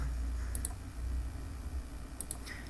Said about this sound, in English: all I need to type on my calculator is my